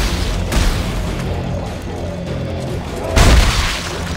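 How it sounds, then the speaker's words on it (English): Gunfire in the sci-fi horror video game Dead Space 3: a loud, booming shot bursts out near the end over a dense, rumbling game soundscape, with an earlier, softer thump. "Oh, he shot something there."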